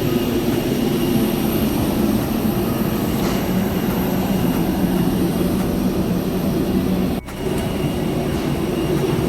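A steady, loud jet engine drone fills an airplane cabin on a domestic flight from Chennai to Delhi, a constant roar that continues without a break apart from a brief dip near the end.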